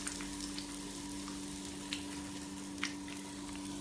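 Egg fingers fry in hot oil with a quiet, continuous sizzle, a steady bubbling hiss broken by a few soft crackles and pops, with no one talking.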